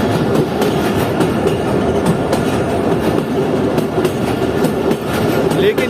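Passenger train on a mountain line climbing towards Kuchlak, heard from the last coach as a loud, steady rumble with a continuous rhythmic clickety-clack of wheels over rail joints.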